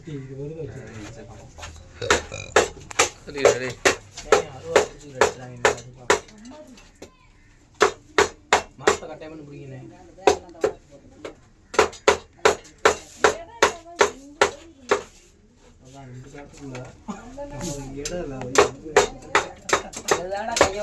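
Hammering breaks open an electricity box or wall where a cobra is hiding, loud sharp blows in rapid bursts of several strikes separated by short pauses, with voices talking in between.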